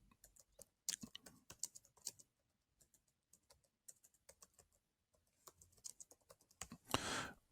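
Keystrokes on a computer keyboard as a note title is typed, coming in irregular bursts of clicks with short pauses between them and a denser flurry near the end, close and clear with no talking.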